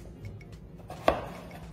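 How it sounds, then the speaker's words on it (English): A knife chopping through peeled, hard butternut squash on a board, heard as one sharp, close cut standing out from a quiet kitchen background. "so now I'm gonna chop my butternut."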